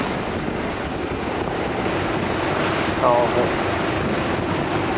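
Wind roaring across the microphone and waves breaking around a sailing yacht at sea in a force 5 breeze, a loud continuous rush with a brief splash near the middle.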